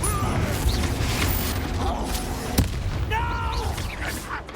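Confringo blasting spell in Hogwarts Legacy during combat: booming explosive impacts and whooshing magical effects, with a sharp blast in the middle amid continuous rumbling battle noise.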